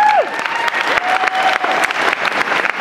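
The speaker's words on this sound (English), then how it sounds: "A round of applause." A gathering at a baptism applauds in a short burst of clapping, with a tonal whistle or squeak sliding in at the start and a voice faintly mixed in.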